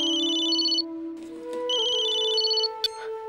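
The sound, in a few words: mobile phone ringtone ringing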